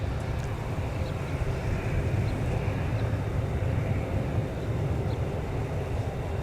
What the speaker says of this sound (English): That unmistakable rotor noise.